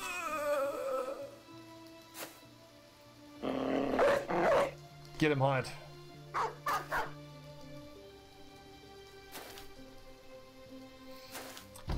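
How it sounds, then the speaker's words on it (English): War dogs bark, growl and yip in a Battle Brothers fight at night, sharp bursts in quick clusters over soft game music, with someone talking over them now and then. "We can release the dogs finally."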